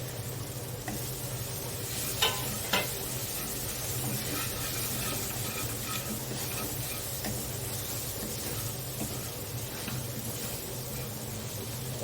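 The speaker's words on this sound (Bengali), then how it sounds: "মশলাটা ভালোভাবে ভেজে নিতে হবে, তবেই শাকের টেস্ট আসবে।" Chilli, turmeric, salt and sugar fry in a pan for a Bengali pui shaak chorchori with fish head, a steady close sizzle running throughout with scraping stirs and a couple of sharper clinks of the spoon.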